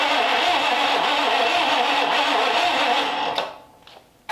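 A Cadillac 331 V8 engine runs rough and half choked, a loud, steady, uneven rumble lasting about three seconds before it stumbles and dies away, followed by a brief sharp noise at the end.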